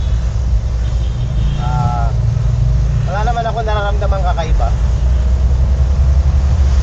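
A camper van's engine drones steadily on a road test, a constant low rumble throughout, with someone talking briefly over it from inside the cab.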